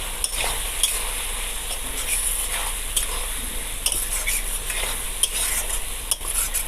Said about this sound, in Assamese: এতিয়া ইয়াত দি মই এইখিনি ভালকৈ মিক্স কৰি ল'ম